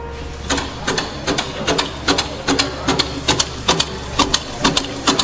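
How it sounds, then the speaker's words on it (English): A 1902 Locomobile steam car engine, running on compressed air, chuffs in a quick, even mechanical rhythm of sharp exhaust puffs and clatter. It sounds close and steady throughout. "I just want to show you on this motor how much power you have with an O2 locomobile"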